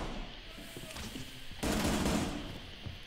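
Gunfire in the Rainbow Six Siege video game, a Hibana operator shooting: a burst of shots that swells loudly for about a second midway through, with faint game noise and scattered shots around it.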